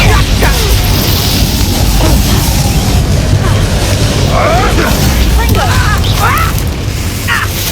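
Fiery Confringo spell blasts in the Hogwarts Legacy video game on Xbox Series S, loud booming bursts over a dense continuous battle din, with voices shouting spells and taunts throughout.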